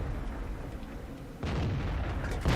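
A Panther tank's cannon fires in World of Tanks, a sharp boom breaking in over steady engine rumble, followed by a second loud blast near the end.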